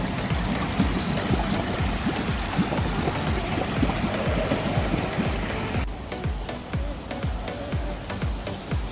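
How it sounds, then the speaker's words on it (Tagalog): Strongly flowing water rushes steadily in a busy mall setting, a dense continuous wash with rapid splashing ticks, fairly faint and unbroken throughout. "Maagos yan guys."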